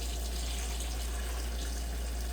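Tap water pours in a steady, unbroken stream into a can while cooking taco chili with ground beef, a constant close hiss with no talk.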